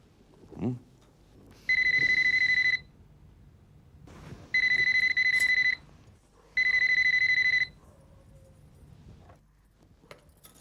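An indoor telephone rings in three separate electronic bursts, each lasting about a second with short gaps between them. Small, faint room noises sit in the quiet stretches.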